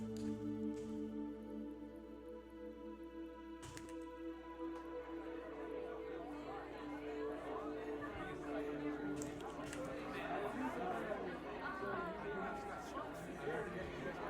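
Murmuring crowd chatter at a club in the game Eliza, a dense mass of voices swelling from the middle onward over a sustained electronic music drone.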